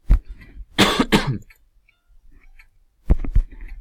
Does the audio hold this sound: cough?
yes